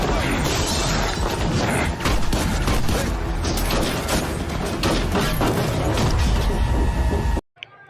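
Dense, loud action-scene din from an Indian action film, with crashes and rapid bursts like gunfire and shattering, continuous for several seconds before cutting off abruptly near the end.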